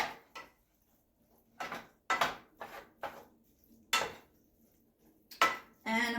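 Ground chicken and stuffing are mixed in a bowl, with irregular clanks and scrapes of a utensil against the bowl separated by brief silences.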